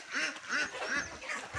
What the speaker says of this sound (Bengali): বহুত হাঁস